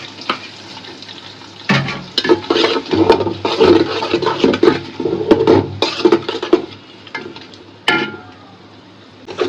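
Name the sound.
onion and spices frying in oil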